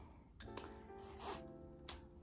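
A stiff zipper on a new Yves Saint Laurent large bill pouch being worked open, a few short rasping pulls and small clicks, very close and quiet with no talking.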